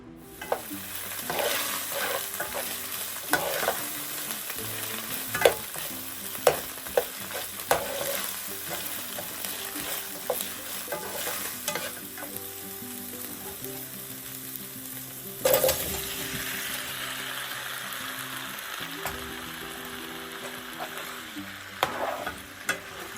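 A pan of pachon, a Bengali mixed-vegetable dish, sizzles steadily while a spoon stirs and scrapes it in irregular clicking strokes, close and fairly loud, with a sharp clatter about two-thirds through.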